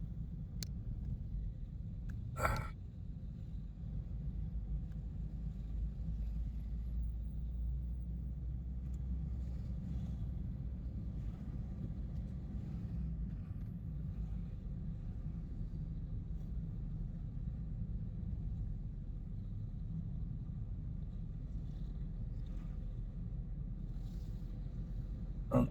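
A car drives up through a village on an overcast morning, a steady low engine and road rumble running throughout, close and continuous, with a brief sharp knock near the start.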